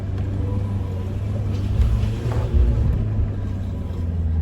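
A Mitsubishi Pajero Mini kei truck climbs steep slick rock on the Hell's Revenge trail, its small engine a steady, close rumble that swells louder midway through as it strains up the rock.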